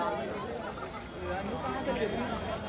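A dense crowd of pilgrims presses toward darshan at the Mahakal temple in Ujjain, a steady wash of babble and shuffling that stays close and even throughout, with no single voice standing out.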